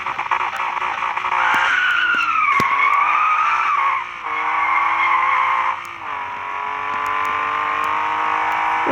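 Video game car accelerating away with tires skidding and squealing, a loud continuous engine whine rising and shifting pitch with brief dips between gears, no talking.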